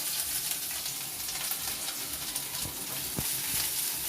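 Crushed ginger frying in hot oil in a pan, a steady close sizzle with soft crackles and an occasional stir, no voices over it.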